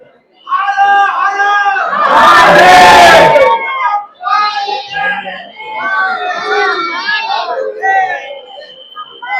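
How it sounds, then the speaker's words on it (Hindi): Dense, noisy crowd packed inside the Kal Bhairav temple in Ujjain, many voices chanting and shouting together loudly and close, with one burst of harsh noise early on. "भाई बहुत ज्यादा भीड़ है"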